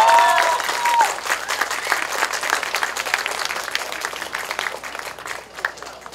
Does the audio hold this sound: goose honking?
no